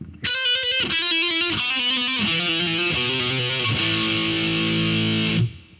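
A heavily distorted electric guitar plays a quick descending series of chords, each struck and held briefly, ending on a long sustained chord that cuts off.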